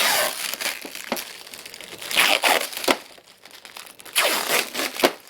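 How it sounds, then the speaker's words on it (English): Plastic protective film peeled off a new printer, with close, loud crinkling and tearing in several bursts, the strongest around the middle and near the end. "peel off the plastic on this bad boy"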